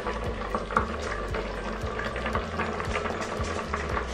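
A chicken sauce simmers slowly in a pot, a steady close bubbling with soft pops throughout and no voices.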